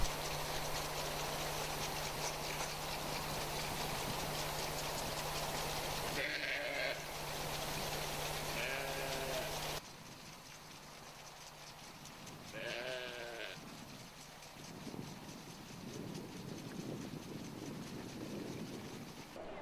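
Goats on a farm, a nanny goat with her kids, bleating in several short wavering calls at moderate distance over steady outdoor background noise, with a low continuous hum in the first half.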